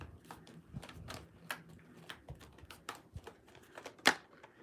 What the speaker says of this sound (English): We're shuffling for 2 more cards before we begin.